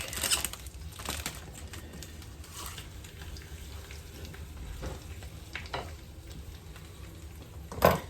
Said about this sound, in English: We're just going to start wilting this spinach down and take about a minute with half of our garlic.